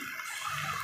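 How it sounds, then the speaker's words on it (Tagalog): Water gushes into a cooking pot in a brief, steady, close rush of pouring liquid, with no talking. "Tapos, lagyan na natin siya ng tubig."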